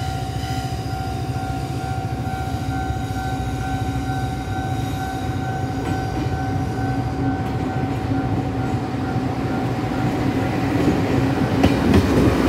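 A three-car DRC diesel railcar train in original livery passes through Ruifang station in Taiwan, its engine drone and wheel rumble building steadily and growing louder toward the end, with a sustained high whine above.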